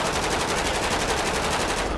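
Rapid automatic gunfire rattles continuously in GTA 5 during an LSPDFR police mod SWAT shootout. The burst is loud, dense and unbroken for about two seconds.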